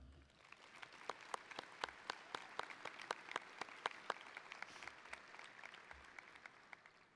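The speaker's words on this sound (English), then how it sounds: "Please give another round of applause for all the coaches at Fargo South." Sparse, scattered clapping from a small group at a high school graduation ceremony, faint and distant, individual claps standing out in an uneven rhythm.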